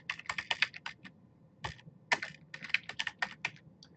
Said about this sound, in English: So you type in your name